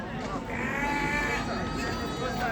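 Goats and sheep bleat in a crowded livestock market in Ganja, a steady din of overlapping animal calls with a busy background and voices mixed in.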